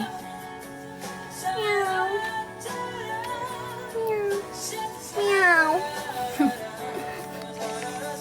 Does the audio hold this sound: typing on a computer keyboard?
no